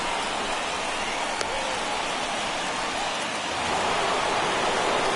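Heavy rain pours in a steady, dense hiss throughout a baseball game in MLB The Show 21, staying constant and loud with no breaks.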